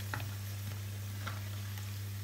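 Battered onion rings deep-frying in oil, a soft continuous bubbling sizzle with a few faint crackles over a steady low hum, brief and with no voices.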